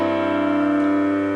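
A sustained cadential six-four chord rings out as one steady held harmony, several pitched notes stacked and sounding together cleanly for just over a second.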